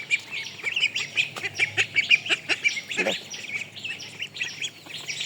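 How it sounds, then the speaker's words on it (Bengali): A flock of nearly grown domestic ducks quacks in a steady, rhythmic chorus close by, with faint background noise in a rural home setting. "আর এদিকে দেখেন আমার হাঁসগুলো কিন্তু মাশাআল্লাহ বড় হয়ে গেছে প্রায়"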